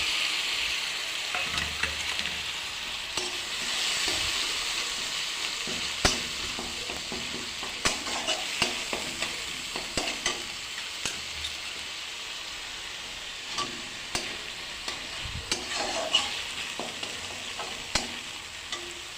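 Ginger-garlic paste fries in a pan for prawn malai curry, a steady broadband sizzle with frequent scrapes and stirring clicks running throughout, close and moderately loud, with no voices.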